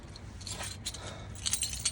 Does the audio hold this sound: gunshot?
no